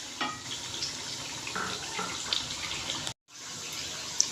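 Water poured from a tablespoon into spices cooking in a pan for chicken karahi, a steady close splash and hiss, with one brief silent gap near the end.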